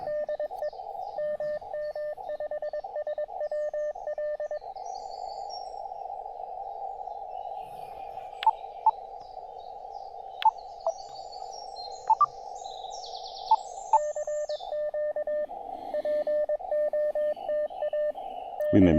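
Morse code CW signal on amateur radio, heard as a steady single-pitch keyed tone beeping in rhythmic dots and dashes for most of the time, with a few sharp clicks and a fainter second signal alongside.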